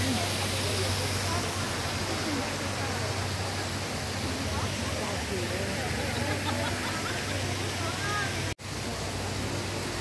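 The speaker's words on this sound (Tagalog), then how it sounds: "so ito yung falls nila" A garden waterfall at Diamond Hill pours in a steady, dense roar of rushing water filling the whole stretch, close and unbroken apart from a brief dropout near the end.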